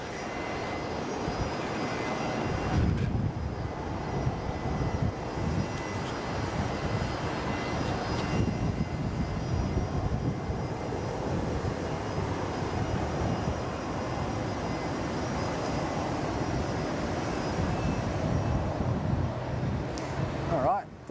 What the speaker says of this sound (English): this is Solomon's A320, I think